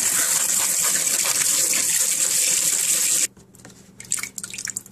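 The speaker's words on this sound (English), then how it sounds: "turn on the cold water" A cold water tap runs steadily into a sink for about three seconds, a loud broadband gush, then shuts off, leaving quieter drips and splashes of water being handled.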